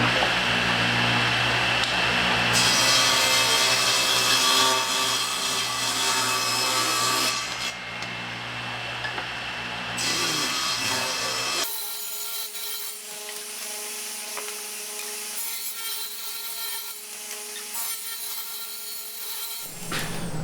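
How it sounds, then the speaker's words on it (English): Hand saw cutting a miter through a soft maple board about 6 inches wide and 3/8 inch thick, steady back-and-forth rasping strokes close by, pausing partway and then resuming more quietly. "I'm going to start by making my first miter cut here"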